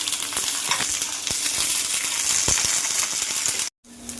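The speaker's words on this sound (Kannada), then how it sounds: "ಹಸಿಮೆಣ್ಸಿನ್ಕಾಯಿ ಈ ಥರ ಚೆನ್ನಾಗಿ ಫ್ರೈ ಆಗಬೇಕು, ಹಸಿ ವಾಸನೆ ಎಲ್ಲ ಹೋಗಬೇಕು" Green chilies frying in a spoonful of oil in a pan for onion chutney, with a continuous close sizzle and scattered clinks and scrapes from stirring, briefly cut off near the end.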